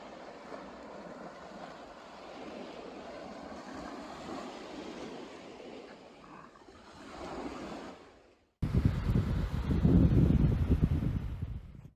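Ocean waves at the seaside break and wash in a continuous rushing surf, swelling and fading, then a louder, closer stretch of crashing water with wind buffeting the microphone.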